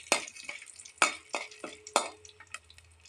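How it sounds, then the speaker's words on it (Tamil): Curry leaves and peanuts roasting in hot oil for idli milagai podi rice, with a spoon scraping and stirring the pan in a handful of sharp, close strokes over a soft crackle. "இப்போ நம்ம கருவேப்பிலையும் வேர்க்கடலையும் சேர்த்துக்கலாங்க. நல்லா ரோஸ்ட் ஆகட்டும்."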